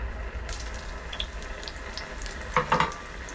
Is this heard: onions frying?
yes